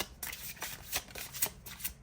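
An original tarot card deck being shuffled up close, soft papery riffles and slaps arriving in short repeated bursts with no voices over them.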